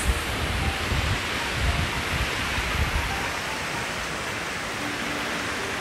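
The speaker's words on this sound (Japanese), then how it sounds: "川です" Steady rushing water of a mountain river flows without pause, a broad constant roar close by.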